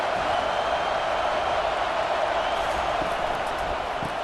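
Steady stadium crowd roar from the College Football 25 video game during a Penn State vs USC broadcast-style simulation, a dense continuous wash of distant cheering with no clear voices on top.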